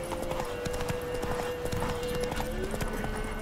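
A horse gallops in The Witcher 3, a rapid, continuous clip-clop of hooves with steady rhythm, moderately close under a faint background game ambience and no speech.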